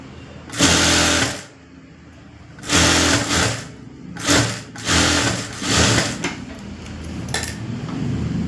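A sewing machine stitches the lining and underarm seam of a boutique-style full blouse, running in about five loud, close bursts of rapid whirring with short pauses between.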